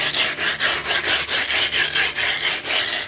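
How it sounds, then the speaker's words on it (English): Glass being rubbed with abrasive grit to give it a matte surface, a rhythmic gritty scraping of back-and-forth strokes, about four per second, close and steady, with no talk. "Keep replenishing your grit as you're working."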